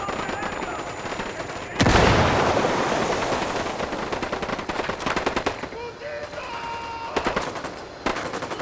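Grenade blast and heavy gunfire in the video game Ghost Recon Wildlands: a sudden loud explosion whose roar fades slowly, then rapid bursts of automatic fire crackling close by, with brief pauses between volleys.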